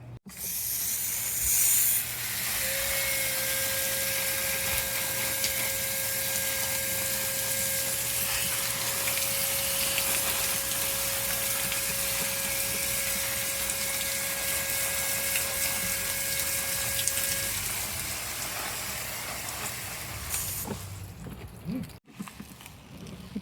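Freshly harvested home-garden onions are washed under running water, a steady close hiss of flowing water with a faint whining tone that lasts about eighteen seconds before stopping with some handling sounds.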